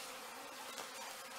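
Bees buzz around cooked and uncooked sweet potato flour set out side by side, a faint, continuous drone with no talking.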